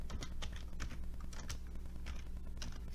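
A folder name typed on a computer keyboard: irregular soft key taps heard close, partly buried under a steady low hum and background noise.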